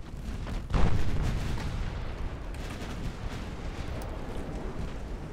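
Naval cannon fire in the warship battle game Ultimate Admiral Dreadnoughts: one heavy, booming salvo near the start, then a steady rumbling wash of battle noise and distant gunfire, with no talking.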